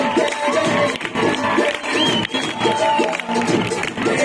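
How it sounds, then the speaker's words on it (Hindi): A crowd at a school National Sports Day event claps in a steady rhythmic beat, loud and close, with shouting voices and general crowd noise mixed throughout. "ताली मारो, ताली मारो।"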